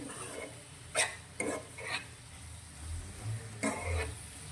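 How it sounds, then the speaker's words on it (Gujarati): Green onion curry stirred in a pan on a gas stove, with a handful of scraping, clinking spoon strokes against metal over a low sizzle, close and clear with no talking. "બધું સારી રીતે પહેલાં મિક્સ કરી લઈશું"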